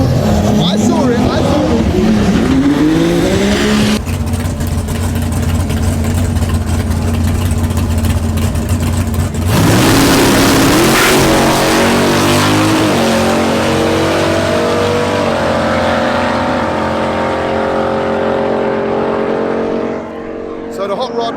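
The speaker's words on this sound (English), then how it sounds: "the hot rod blows his tyres off, spins up" A 1927 Model T hot rod at a drag strip roars hard as it accelerates and spins its tyres, the loud engine surging and shifting pitch near the listener before fading away, with crowd voices mixed in.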